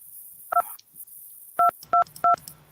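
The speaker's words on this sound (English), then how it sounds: "You can hear the phone?" A telephone keypad sounds four clear dialing tones, one alone and then three in quick succession, loud and close, with faint talk in the background.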